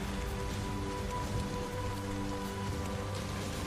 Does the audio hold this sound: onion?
no